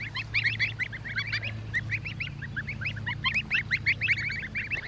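Baby birds about three days old forage on a homestead, giving a dense run of high, rapid peeping calls over a low steady hum.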